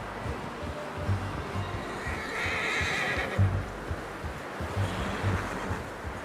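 A horse in Red Dead Redemption 2 whinnies over a steady wash of wind or surf, with scattered hoof clops underneath.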